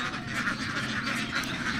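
Ducks quack steadily and fairly close for a couple of seconds, a dense overlapping chorus of nasal calls with no talking.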